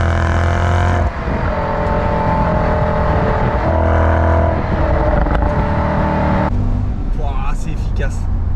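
A Mercedes CL63 AMG V8 sings as the engine is revved, a loud, sustained exhaust roar that swells, drops briefly, then climbs again with a rising, raspy note toward the end.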